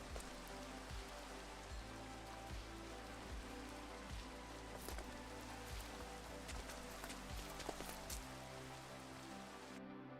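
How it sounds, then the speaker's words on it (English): Steady rain pours and patters continuously in a Minecraft world, loud and dense, with scattered droplet ticks over a constant wash and no talking. "The rain is so loud."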